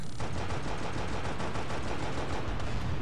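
Rapid automatic machine gun fire from a Scorpion tank's auto-aimed gun in the mobile game Halo: Spartan Strike, a dense, continuous rattle of shots lasting the whole stretch with no talking.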